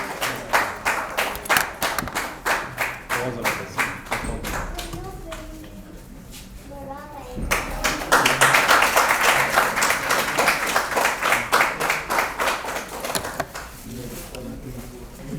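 Clapping from an audience at a tribute event for flood relief workers in Gujranwala, with dense overlapping claps that swell and fade under a host's voice announcing names.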